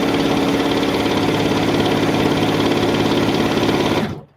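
A sewing machine runs a long quilt-top seam, jelly roll strips stitched in one continuous fast, even hum of needle strokes that stops abruptly at the end.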